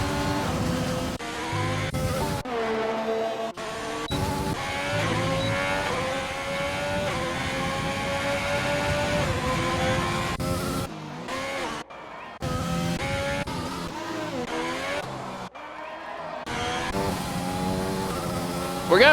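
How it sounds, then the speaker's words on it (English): Onboard a race car lapping the Montreal circuit in Canada: a loud, continuous engine drone rises and falls through acceleration, with abrupt drops and cuts at gear changes and braking, and no talk over it. "Just totally silent so you can hear the car around here at Montreal."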